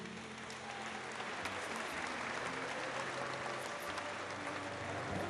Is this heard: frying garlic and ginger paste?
no